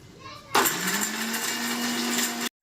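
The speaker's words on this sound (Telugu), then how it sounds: "అల్లం వెల్లుల్లి ఎండు కొబ్బరి మనం మిక్సీ పట్టేద్దాం" A mixer grinder grinding ginger, garlic and dried coconut starts abruptly and whirs loudly for about two seconds with a steady high-pitched motor whine and grinding rattle, then cuts off sharply.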